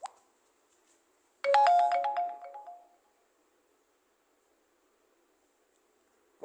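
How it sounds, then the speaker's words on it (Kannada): A phone's notification ringtone from an Echo Notification UI app plays once as a bright, melodic electronic chime lasting about a second and a half, clear and alone against near silence. "ಇದೇ ರಿಂಗ್ ಟೋನು. ಇವೆಲ್ಲ ನೋಟಿಫಿಕೇಷನ್ ರಿಂಗ್ ಟೋನು."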